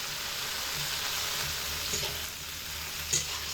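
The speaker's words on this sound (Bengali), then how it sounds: "একটু ছাড়া ছাড়া করে ভাজতে হবে, যাতে করে সবকটা ভেন্ডির পিস সমানভাবে ভাজা হয়।" Okra pieces fry in a pan with a steady, soft sizzle that holds evenly throughout, broken by a couple of faint stirring clinks near the middle and toward the end.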